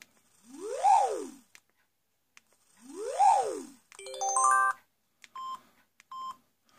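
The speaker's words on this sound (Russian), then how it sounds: "Звук закрытия крышки можно" Two swooping electronic tones rise and fall, followed by a quick cascade of synthetic chimes and a few short beeps, the lid-closing alert of a Samsung X210 flip phone.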